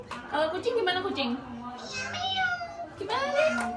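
A voice imitates a cat's meow with drawn-out, rising and falling calls, mixed with other childlike speech sounds, fairly close.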